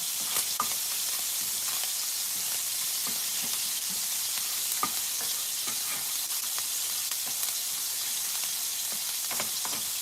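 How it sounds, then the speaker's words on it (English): Pancetta sizzles in a pan as it cooks down for dinner, a steady close crackling fry with scattered pops and light stirring, no one talking. "Just letting that pancetta cook down."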